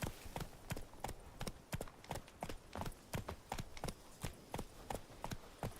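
A horse's hooves clop in a steady, quick rhythm on hard ground in a video game, each strike crisp and distinct, running continuously with no talk.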